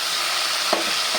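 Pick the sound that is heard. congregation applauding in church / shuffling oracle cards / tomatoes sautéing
tomatoes sautéing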